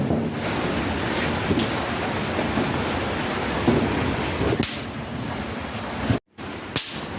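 Heavy rain pours down in a continuous, dense roar, broken by a brief silence near the end.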